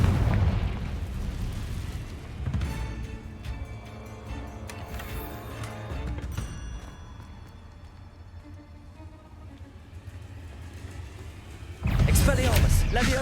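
A Confringo fire spell bursts in Hogwarts Legacy, a deep booming blast at the start followed by rumbling, crackling debris and game music, with a second loud burst near the end.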